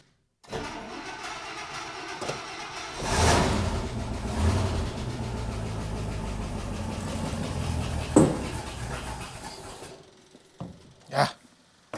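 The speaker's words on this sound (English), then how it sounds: "I'm just gonna turn my throttle up a hair" An International pickup's engine, running on a newly installed carburetor, rises to a louder, higher-revving roar partway through, holds steady, then cuts out and is followed by a couple of short sputtering bursts.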